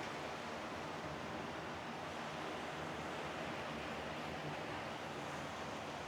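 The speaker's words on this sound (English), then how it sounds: "I'm just sort of sitting here by the water, just enjoying the waves come in." Waves rolling in at a beach in Hua Hin, Thailand during the rainy season, a continuous wash of surf with soft wind rush, steady and unbroken with no talking.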